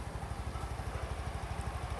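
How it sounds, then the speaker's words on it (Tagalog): A rebuilt Mio i 125 motorcycle engine idles close by with a fast, even low putter that stays steady throughout, with no voices. "Pero yung tunog ng makina, ayan"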